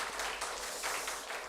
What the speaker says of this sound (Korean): 우리 희찬님 위해서 다시 한번 박수 보내주시기 바랍니다.